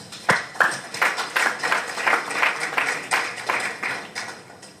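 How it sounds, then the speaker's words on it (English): An audience at a symposium opening ceremony gives a round of applause, a fairly sparse run of claps with sharper individual hits standing out, heard up close. "we need another round of applause"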